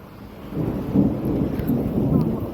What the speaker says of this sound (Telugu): పైన ఉరుములు మెరుపులు పిడుగులు